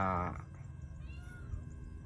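A cat meows once, close and clear, with a rising then falling cry, followed by quieter low background rustle and faint household noise.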